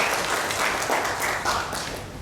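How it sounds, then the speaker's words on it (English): Applause from attendees at the inaugural session of an academic research workshop on insolvency and bankruptcy, a short, fairly loud spread of clapping in a reverberant hall, tapering slightly near the close. "Let's give a round of applause"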